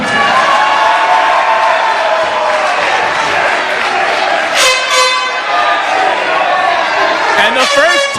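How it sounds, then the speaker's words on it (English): A wrestling crowd at a CZW Cerebral 2012 event chants loudly and steadily, with a dense roar filling the room throughout and horn-like blasts near the end. "And the first take a shit chant in CZW history has broken out."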